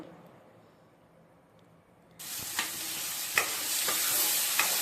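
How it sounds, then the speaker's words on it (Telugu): Cauliflower stir-fried with ginger garlic paste starts to sizzle loudly partway through, with a few spoon scrapes and clinks against the pan over the constant frying hiss. "మొత్తం ఒకసారి కలుపుకొని ఫ్రై చేసుకోవాలి"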